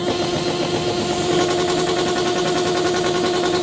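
A motorcycle engine revved hard by its owner for a noise measurement at a motorcycle meet, a loud, steady, close roar holding high without a break.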